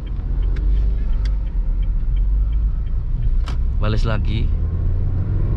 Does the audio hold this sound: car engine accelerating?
yes